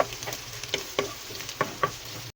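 Leftover rice for sinangag fries quietly in a pan with a soft steady sizzle, and a few light scrapes of stirring tap against the pan.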